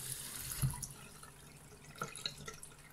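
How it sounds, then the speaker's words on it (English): Cold water poured slowly over freshly made paneer to rinse it, a faint, quiet trickle and splash in a still kitchen, with a brief louder spill near the start. "Just slowly put the cold water in"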